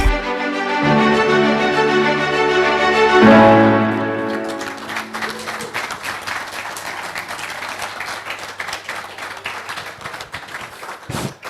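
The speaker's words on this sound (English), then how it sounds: "Please, let's keep clapping, please, ladies and gentlemen." Audience clapping at a Tobems Media showcase event breaks in over the fading end of a sustained musical chord, then carries on as a loose, steady wash of hand claps.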